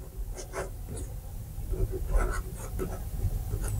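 Pen scratching across small paper ballot slips as party names are written out, a soft continuous scribbling close by with short strokes and brief pauses, no voices.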